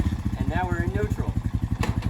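Honda 420 ATV engine idling in neutral, with a steady close chugging pulse throughout and a person talking briefly over the idle.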